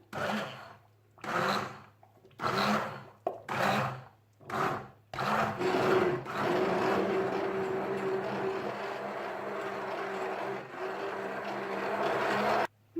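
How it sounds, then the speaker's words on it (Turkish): A blender whirs steadily for several seconds after a few short bursts of pulsing, pureeing cooked damson plums, its motor droning loud and continuous with a churning, grinding texture. "Hafif ılıyan eriklerimizi şimdi blenderdan geçirip iyice püre haline getireceğim."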